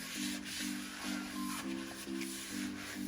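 Avocado oil being rubbed around a loaf tin, a soft steady rhythmic rubbing and scraping, repeated strokes close up and quiet, with no talking.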